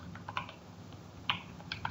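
Soft keystrokes tap on a computer keyboard, a handful of light, irregular clicks over under two seconds, close and quiet with no talking.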